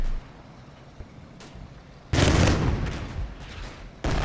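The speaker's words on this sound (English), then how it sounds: "I finally deploy the Whirlwind in the role that we all know that it was intended for, anti-infantry" Wirbelwind flak guns fire on infantry in the Combat Mission Final Blitzkrieg war game, a loud sustained burst of rapid automatic fire that stops, then resumes abruptly.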